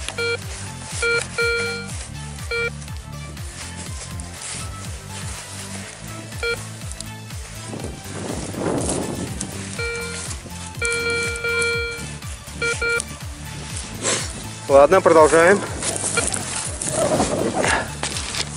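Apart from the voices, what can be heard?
metal detector signal beep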